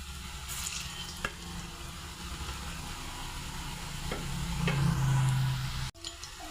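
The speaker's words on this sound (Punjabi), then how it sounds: "ਆਪਣਾ ਘਿਓ ਗਰਮ ਹੋ ਚੁੱਕਿਆ ਹੁਣ ਆਪਾਂ ਇਹਦੇ ਵਿੱਚ ਪਾਉਣ ਲੱਗੇ ਬਾਲਸ ਜਿਹੜੀਆਂ ਆਪਣੇ ਬਣਾਈਆਂ ਹੋਈਆਂ ਸੀਗੀਆਂ" Gulab jamun dough balls frying in hot ghee, a steady close bubbling sizzle with a few sharp ticks and clacks, swelling slightly louder before a brief break.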